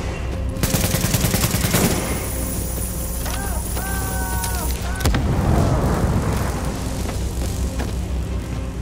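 Gunfire in the video game The Division, during the Subway Morgue mission: bursts of rapid shots and sharp impacts, followed by electronic beeping tones and a heavy blast, with game voices faintly underneath.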